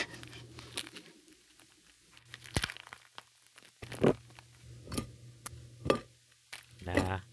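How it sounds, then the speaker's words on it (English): Plastic package being torn open amid gloved handling, heard as sharp crinkles and tearing bursts scattered through a quiet stretch with soft speech in the background. "Open the package."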